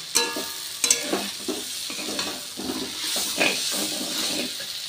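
Potatoes and kundri (ivy gourd) fry together in a pan and are stirred, giving a steady close sizzle broken by scraping clicks and knocks of the spoon throughout.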